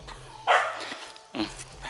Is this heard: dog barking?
yes